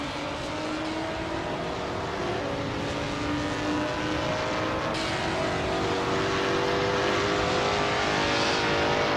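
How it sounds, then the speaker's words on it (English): A 2007 Koenigsegg CGT racing car's engine during a race, a continuous loud roar of high revs with shifting engine pitch, mixed with other cars' engine noise and no voices. "Bacio Grande is driving a 2007 Koenigsegg CGT"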